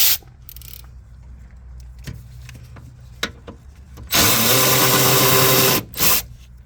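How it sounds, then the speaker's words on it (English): A loud, steady whirring burst from an electric ratchet runs for about two seconds during Chevy Cruze 1.5 turbo radiator removal, then stops, after quieter mechanical clicks and handling noises. "It's electric ratchets."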